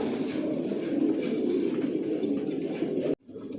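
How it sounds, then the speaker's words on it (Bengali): Adult Johnson-line racing pigeons coo together in a loft, a dense rolling drone of low calls that cuts out briefly near the end, then resumes at a lower level. "ভিউয়ার্স দেখতে পাচ্ছেন এখানে সব অ্যাডাল্ট কবুতর"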